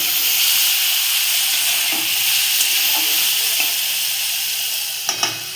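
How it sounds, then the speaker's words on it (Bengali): Potatoes sautéed with a splash of water for a vegetarian banana-stem dish sizzle loudly and continuously, with a few stirring scrapes and a couple of sharp clicks at the end. "আলুটা সিদ্ধ হওয়ার জন্য একটু জল দিয়ে আলুটা ভালো করে কষিয়ে নেবো যাতে সিদ্ধ হয়ে যায়"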